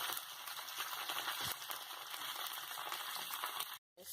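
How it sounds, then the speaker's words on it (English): Fish frying in well-heated oil in a pot, a steady dense sizzle and crackle throughout, close and even, cutting off briefly near the end. "This fish is frying."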